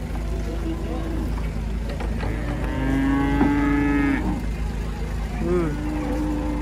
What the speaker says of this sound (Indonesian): sapi ngamuk guys